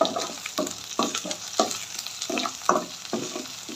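Coriander and turmeric powder masala frying in a pan for ridge gourd (tori) sabzi, a spoon scraping and stirring in about seven regular strokes over a steady sizzle, close and clear with no talking.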